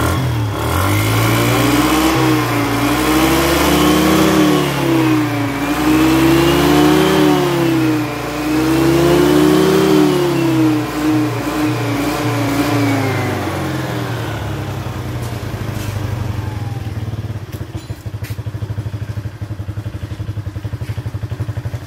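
A Suzuki Skydrive scooter engine revs up and down in several rising and falling sweeps, loud and close, then settles into a steady idling clatter.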